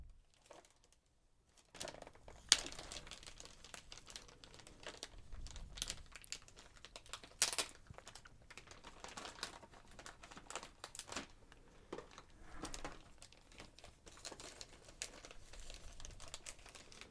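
Sheets of Spirograph drawing paper crinkle and rustle as they are handled, with sharp crackles and soft shuffling in a close, quiet space, continuing steadily after a brief silence at the start.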